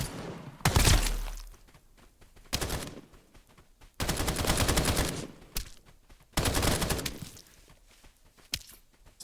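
Sniper gunfire in the video game Escape From Duckov: several sharp, loud shots and bursts separated by quieter gaps, each with a ringing tail, with no talking.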